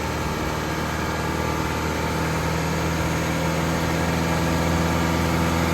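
Car engine running steadily on a lab bench, a continuous loud hum with a low vibrating drone and no rise that stands out clearly, heard alone without any talk.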